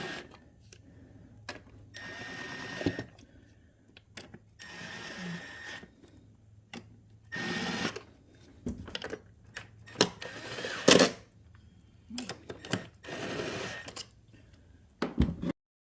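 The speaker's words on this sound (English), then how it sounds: "Just be gentle when you use power tools." A power tool whirs in short bursts, driving bolts while replacing the crankcase ventilation filter on a 6.7 Cummins engine, with brief pauses between runs and a few sharp clicks and clanks nearby.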